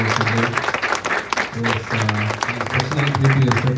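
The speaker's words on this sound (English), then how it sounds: "Let us give another big round of applause for Dr. Sanjay." An audience at a spiritual satsang gathering applauds a guest speaker with sustained, fairly loud clapping from a roomful of people, while a voice talks over the applause throughout.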